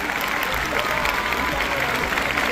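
Loud sustained applause from an audience at a general knowledge competition event in Vazara, with a continuous dense wash of clapping and some crowd murmur.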